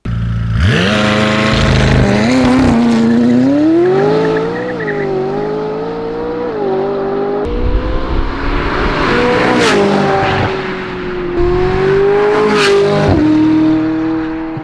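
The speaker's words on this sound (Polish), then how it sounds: "Jak mogliście usłyszeć, ten układ wydechowy brzmi niesamowicie i również dzieje ogniem." A tuned car fitted with a custom welded aftermarket exhaust system revs hard and loud, its note rising and falling through repeated throttle blips with sharp crackles, close and without speech.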